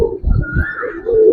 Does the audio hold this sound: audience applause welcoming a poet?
no